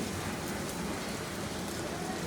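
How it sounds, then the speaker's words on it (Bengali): Chopped garlic and grated ginger frying in hot mustard oil in a frying pan, a dense, even sizzle and crackle filling the whole moment, with no talk. "আমি একটা ফ্রাই প্যানে 2 টেবিল চামচ সরিষার তেল গরম করছি"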